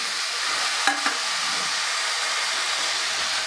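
Bitter gourd pieces stir-fry in masala, a steady broad hiss of frying with a couple of faint scrape clicks early on, fairly loud and continuous without talk.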